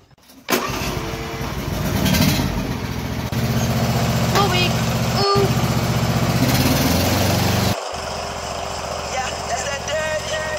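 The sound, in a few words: lawn mower engine running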